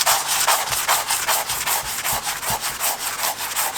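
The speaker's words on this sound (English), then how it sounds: "So use your sanding block there" A sanding block rubs back and forth in quick, even strokes on a shoeing job during fitting, nailing and clenching work; the scraping is close, rhythmic and continuous, with no talk.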